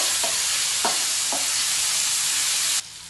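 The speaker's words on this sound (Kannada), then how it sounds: "ಟೊಮೊಟೊ ಸ್ವಲ್ಪ ಸಾಫ್ಟಾಗಿ ಆಗಬೇಕು ಅಲ್ಲಿವರೆಗೆ ಇದನ್ನು ಫ್ರೈ ಮಾಡ್ಕೊಳ್ಬೇಕು" Tomato and coriander leaves fry in a pan with a steady, loud sizzle and a few light stirring scrapes, cutting off abruptly near the end.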